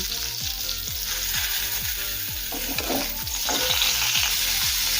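Potatoes and pointed gourd fry in oil in a pan, sizzling steadily up close while a spatula scrapes and stirs in a regular, repeated rhythm.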